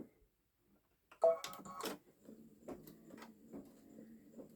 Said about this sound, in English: I'm going to go ahead and tell the machine to stitch the outline